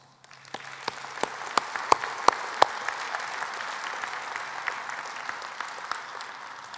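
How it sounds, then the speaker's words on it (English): Audience applause at a county association conference general session, a broad steady wash of clapping from a large room with a few sharper nearby claps standing out, fairly quiet and heard on its own. "I think you all deserve a round of applause"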